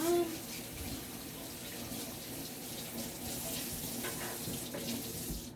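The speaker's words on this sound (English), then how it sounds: "Let me just wash my hands" Water from a kitchen tap runs steadily into a sink as hands are washed, a close, continuous splashing hiss at low level with faint background sounds.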